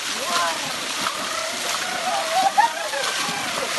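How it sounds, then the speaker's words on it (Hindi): Water being bailed and splashing while people fish, a steady sloshing and splattering with a brief sharper splash near the middle, under voices talking. "यति बेला माछा मार्ने क्रममा पानी फाल्दैछौँ"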